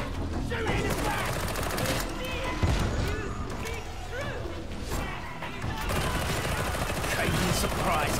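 Dense gunfire rattles almost without pause in the video game Darktide, a noisy combat mix with voices shouting over it.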